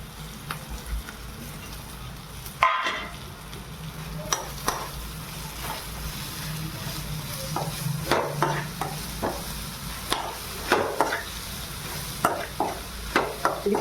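Tender tamarind leaves (chinta chiguru) fry in a pan with a steady low sizzle, broken by repeated scraping stirs and occasional clinks of the spoon against the pan.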